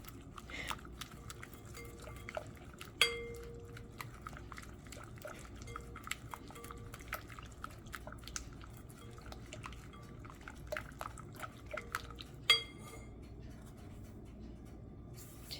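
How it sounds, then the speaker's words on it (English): Quiet whisking of chocolate cupcake batter in a bowl, a steady run of faint metallic ticks and soft liquid stirring with a couple of sharper clinks against the bowl. "Should probably be whisking in between."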